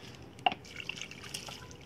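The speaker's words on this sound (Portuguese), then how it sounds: "Agora eu vou jogar água." Water is poured onto a freshly replanted Boston fern cutting in a pot, giving soft close trickles and drips with a small splash near the start, faint and brief.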